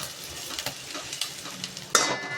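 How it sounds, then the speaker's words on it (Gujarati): Four onions sauté in hot oil with a pinch of asafoetida over a high gas flame. A soft sizzle runs under repeated spoon stirs and scrapes against the pan, with a sharper clatter near the end. "4 નંગ ડુંગળી છે, સોતે કરી લેશું."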